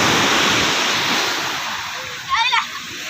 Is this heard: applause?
no